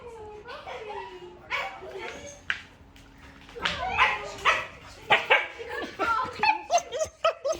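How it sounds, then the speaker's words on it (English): A small dog yips and whimpers excitedly, barks coming in quick bursts toward the end, while people talk and laugh nearby. "she was barking in the house"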